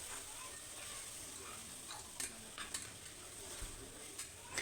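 A vegetable mixture cooks in a cooker with a soft, steady sizzle, broken by several sharp scraping clinks of a spoon stirring against the metal pot at irregular intervals.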